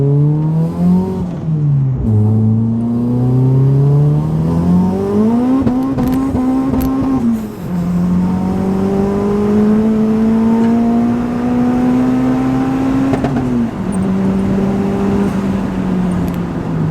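A 406 bhp Vauxhall Corsa VXR accelerates hard in first gear, its loud engine rising in pitch, dipping briefly at a gear change, then climbing steadily again close up with no talk over it.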